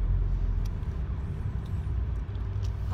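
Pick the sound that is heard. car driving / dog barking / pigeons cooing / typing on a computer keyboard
car driving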